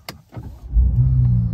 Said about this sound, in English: I will start the car up and give you a little